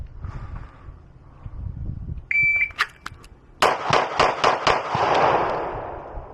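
Five pistol shots from a Beretta APX or Glock 19 fired in quick succession on a range, sharp loud cracks following a beep, with faint talk beforehand.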